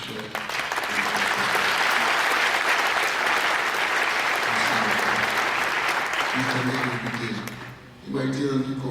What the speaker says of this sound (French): Je vous demande, chers amis invités, de bien vouloir saluer par vos applaudissements notre cher.